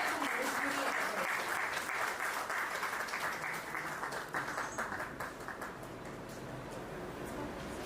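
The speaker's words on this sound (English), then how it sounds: "Let's give a big round of applause" Audience applause at a PGDM graduation event, a full, steady sheet of clapping from a large crowd that slowly eases off in volume toward the end.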